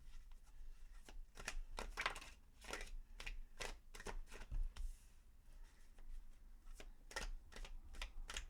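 Tarot cards are shuffled and drawn in a quiet room, giving a series of quick, soft riffling and flicking bursts at an irregular rhythm, faint and close with no talk.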